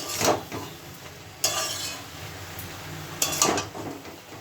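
Fenugreek leaves being stirred in a frying pan, with short bursts of scraping and sizzle at intervals against a low steady fry.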